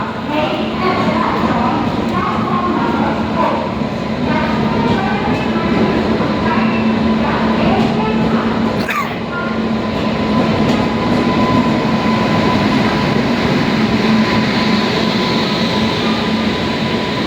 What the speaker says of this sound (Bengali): আমার 4 নম্বর প্ল্যাটফর্মে গাড়ি এসেও গেছে।